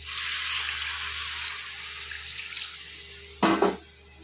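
A bowl being rinsed under a running kitchen tap, with steady broadband water rush that eases off, then a brief louder splash near the end. No one speaks.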